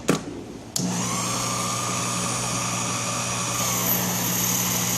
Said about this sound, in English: you can hear the motor is definitely telling us that it's putting out some power here